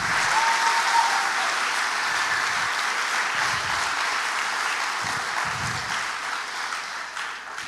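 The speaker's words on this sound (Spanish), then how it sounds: "dale un aplauso al Todopoderoso en esta hora." A Sunday church congregation claps together in strong, continuous applause, a loud, even wash of many hands that slowly thins toward the end.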